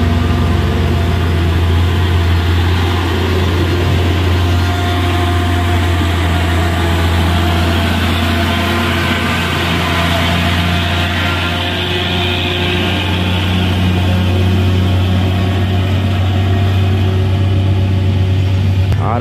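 A trailer truck on a road, heard as a loud, steady, low engine roar that stays constant from start to finish, with no clear rise or fall and no talk.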